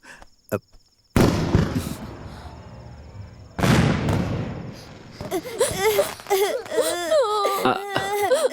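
Sharp firecracker bangs burst out twice, followed by a child crying and wailing loudly with rising, wavering sobs.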